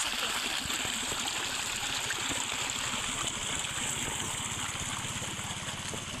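Hot spring water gushes and flows steadily, a constant broadband rush with a low churning rumble underneath, close by and uninterrupted.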